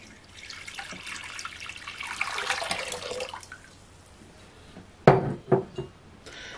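Water runs from a tap into a bowl for bread dough, a soft continuous splashing rush for a few seconds, followed by a couple of sharp clinks of glass or dishes nearby.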